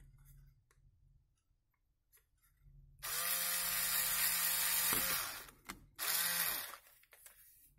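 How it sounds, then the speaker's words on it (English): A power drill whirs loudly for about two seconds while drilling holes in a window grille bird feeder, stops briefly, then spins up again for a shorter burst, with quiet handling noises before and after. "let's drill some holes"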